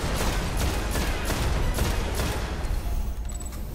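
Rapid gunfire in Destiny, a loud steady stream of shots with booming low end, continuous and close for a few seconds before easing slightly.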